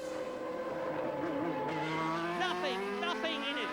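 Formula One cars race at the 1991 Brazilian Grand Prix, with Senna's McLaren Honda and Mansell's Williams Renault close together. High, screaming engines shift pitch up and down as the cars pass, with overlapping whines and a steady, fairly distant roar.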